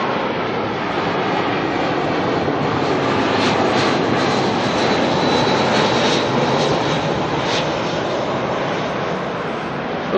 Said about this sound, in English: we've got Jetstar coming in now from Christchurch in the 320